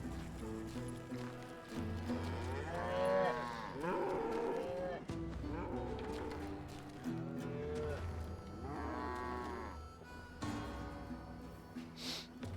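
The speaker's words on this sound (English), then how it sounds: "We got cows." Cattle moo repeatedly in the Western video game Call of Juarez: Gunslinger, several long lowing calls at close range with some background game sound.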